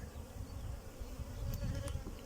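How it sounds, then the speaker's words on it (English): Honey bees at work on the hive supers of a backyard hive hum in a steady, close, continuous buzz with no talking over it. "you can see a couple of these bees down here starting to work, fill up these supers"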